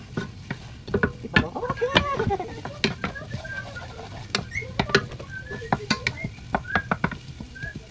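Adobong lechon pork belly frying in a pan, with scattered clattering stirs and scrapes of a utensil over a low sizzle; a few brief spoken words are heard.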